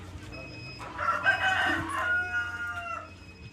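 Chickens fed on BSF larvae on a farm, with a rooster's loud drawn-out crow close by and soft clucking around it, over a low steady background hum.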